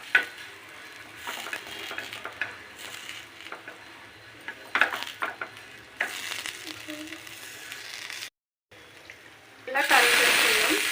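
Fish pieces frying in a pan, turned over as they cook: an uneven sizzle with spatula scrapes and clinks against the pan, then a brief pause and a louder, steady burst of frying at the end, with a voice talking over it.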